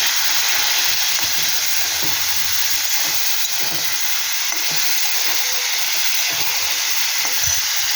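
Cauliflower frying in a pan as spices are added and stirred for a vegetarian rosha, a loud continuous hissing sizzle with faint scraping stir sounds underneath, close and steady throughout.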